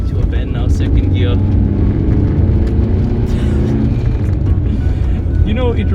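A VW Mk1 Citi Golf drives into a bend in second gear, its engine rumbling steadily and loudly from inside the cabin, with a person talking over the noise.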